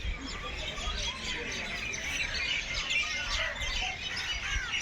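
Crows and sparrows call around a house set among trees, a busy mix of chirps and occasional harsher squawks overlapping continuously at moderate distance, with no talking.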